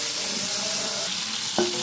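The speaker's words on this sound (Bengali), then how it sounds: "চিংড়ি মাছ চেষ্টা করবেন একটু হালকা করে ভাজা" Prawns fry lightly in hot oil, a dense, steady close sizzle with faint stirring and a single brief clink near the end.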